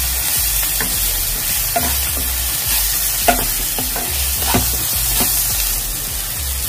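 Soya filling with garam masala being stirred in a frying pan, with a constant close sizzle and repeated scraping strokes of a spoon at an uneven, unhurried rhythm, no voices.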